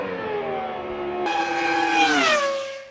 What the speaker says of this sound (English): The distinctive drone of the mother of all sports cars.